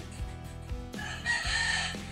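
A rooster crows once at a distance in the Philippines, faint against steady low background noise.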